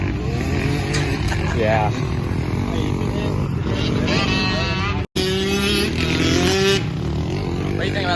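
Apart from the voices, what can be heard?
two-stroke pit bike engine revving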